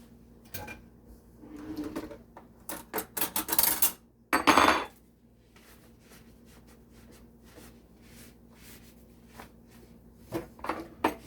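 Spoon and dishes handled while making glaze for homemade apple fritters: scattered close clinks and scrapes, a dense clattering burst, then quiet with a few light taps near the end.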